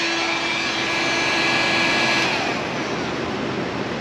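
A hairdryer and hair straighteners run together off a Jackery Explorer 1000 portable battery, giving a loud, steady blowing whir with a faint high whine that holds for the whole stretch.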